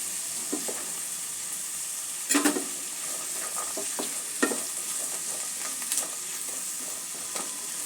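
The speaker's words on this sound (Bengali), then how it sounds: "সামান্য একটু ভাজা ভাজা করে একটু সেদ্ধ করে নেব।" Green peas and flattened rice (poha) fry in a pan with a steady, close sizzle, broken by several scraping stirs of a spatula against the pan.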